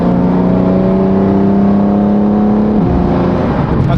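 A BMW M4 Competition driven hard on a public road, its engine holding a loud, steady tone before the pitch drops sharply as it shifts, then climbing again, close and continuous with no talking.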